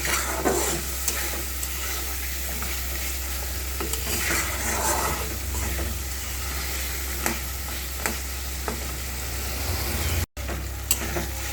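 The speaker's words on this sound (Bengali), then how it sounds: "এর মধ্যে আমি ভেজে রাখা ডালের বড়িটা দিয়ে দিব। এটা এই মশলার সাথে কিছুক্ষণ কষাবো" Fried lentil dumplings (dal bori) sautéed in fish masala in a pan sizzle steadily, with occasional scraping stir clicks, loud and close, no talking.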